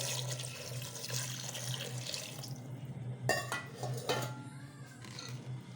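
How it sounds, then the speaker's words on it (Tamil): Tap water running and splashing as it is poured into a pressure cooker holding goat leg soup, a steady close wash in a home kitchen, with brief clinks of metal pots partway through. "தேவையான அளவுக்கு தண்ணி ஊற்றிக்குவோம்."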